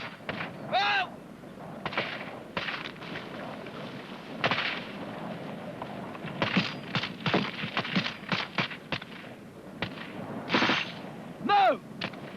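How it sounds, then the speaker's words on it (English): Rifle and machine gun fire during an infantry section fire-and-manoeuvre drill, sharp distant reports in uneven bursts and clusters with echoing tails, rapid volleys crowding together midway, over faint outdoor background with shouted voices. "Rifle group, rapid fire! Gun group, fire!"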